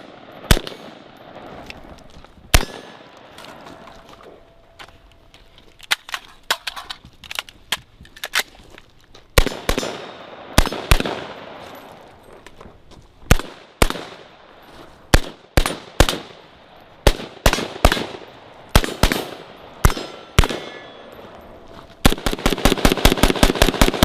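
Rifle gunshots at an outdoor range from a gun fitted with Midwest Industries combat sights, loud sharp cracks fired singly and in irregular bursts, ending in a rapid string of shots.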